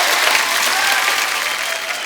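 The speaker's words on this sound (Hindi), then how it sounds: "जोरदार तालियां तो बनती" Studio audience at a Hindi television comedy show bursts into loud, dense applause, a sustained wash of clapping that holds steady throughout the short stretch.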